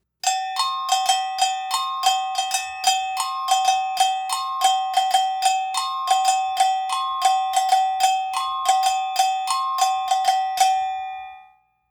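Brazilian agogo bells play the tamborim main pattern, a brisk steady run of ringing metallic strikes switching between high and low bells, close and unaccompanied, then decaying into silence.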